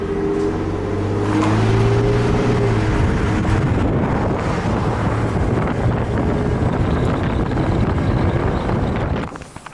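A pickup truck pulls away towing a trailer, its engine a steady low drone with rising effort, heavy wind buffeting the microphone throughout, no voices.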